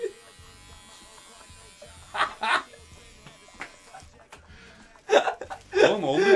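An electric hair clipper with a dying battery buzzes in short weak bursts while cutting hair, mixed with laughter and chatter from people close by.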